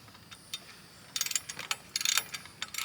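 A hand tool ratchets in short clicking bursts while a part is tightened outdoors near a wheel hoe, the clicks coming in quick irregular clusters at close range with no talk.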